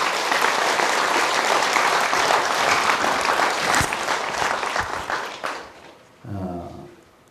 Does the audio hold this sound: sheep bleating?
no